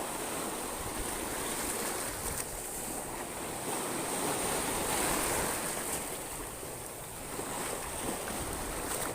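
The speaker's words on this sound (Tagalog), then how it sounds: "Medyo malakas yung alon." Heavy surf rolls and crashes continuously on a shore, a broad steady roar of strong waves with some wind buffeting the microphone.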